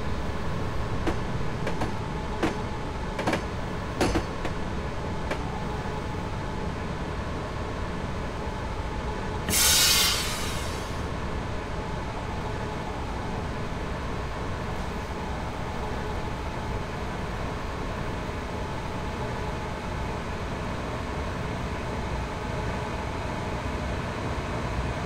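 Train pulling into a station in Train Simulator 2015 on the Manchester London Road to Sheffield Victoria route, a steady low rumble of rolling stock with one brief loud hiss of air brakes midway, no voices.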